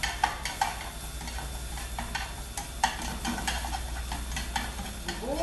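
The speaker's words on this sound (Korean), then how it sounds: "다음에 당근을 볶아주시겠습니다." Carrots stir-fried with a pinch of salt in a pan, a steady low sizzle broken by repeated scraping, tapping stirs of a utensil against the pan, fairly close and with no voices.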